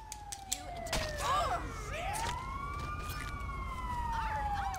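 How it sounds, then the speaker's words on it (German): A wailing GTA Online ambulance siren sweeps up and down steadily in the background, with a few sharp clicks and thumps near the start. "Ah, ist der Krankenwagen."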